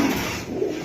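Pigeons cooing at close range, a soft low coo standing out over a steady background murmur for under a second.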